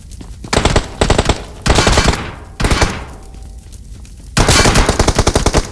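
Bursts of automatic gunfire in a Free Fire or PUBG mobile shooting game, several loud rapid-fire volleys separated by short pauses, close and dominant with no talk over them.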